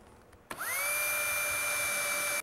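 A power drill whines steadily as it bores a hole in a plastic lid set on a wooden block. After a click it starts suddenly and rises to a loud, close, even high-pitched whir for about two seconds, with no talking.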